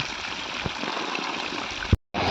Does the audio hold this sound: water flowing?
yes